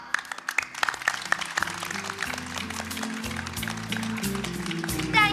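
An audience claps at a school annual day celebration, a dense patter of many hands that builds and carries on without pause, with some tonal sound underneath.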